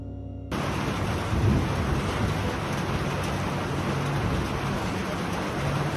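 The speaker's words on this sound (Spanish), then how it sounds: "Nos sacudía la lluvia. Los truenos, el granizo, nos hacían pensar que cada minuto iba a ser interminable." A thunderstorm with heavy rain lashes a trajinera boat on the canals of Xochimilco, a dense, loud, steady roar of rainfall with deeper rumbling swells beneath, starting abruptly after a brief silence and continuing throughout.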